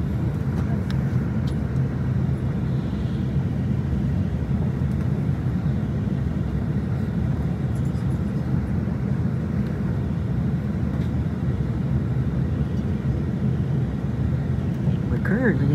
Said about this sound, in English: We're currently in the bus and he's having to back down the road to get to where we're going.